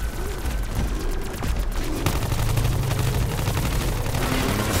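Rapid video-game gunfire blasts nonstop at an elephant boss with a jewel on its forehead, dense loud bursts layered with booming impacts and a low rumbling score throughout.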